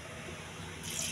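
Water pours into a pressure cooker pot with green chillies, salt, turmeric, pepper and garlic for millet moong dal pongal, a steady close splashing that swells louder near the end.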